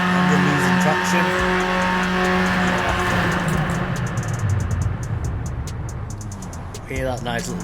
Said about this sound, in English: Hear that nice little low rumble